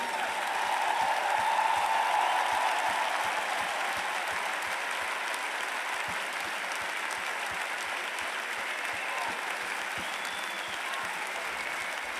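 Sustained applause from a large arena crowd at a concert celebrating 30 years of songs, a steady dense wash of clapping lasting throughout without a break.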